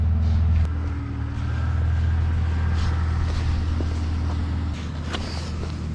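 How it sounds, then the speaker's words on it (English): A BMW E46 car idles with a steady low engine rumble as it is moved closer to a wall, the drone continuous and fairly loud throughout with a slight dip in level partway. "I'm gonna move the car up closer to the wall"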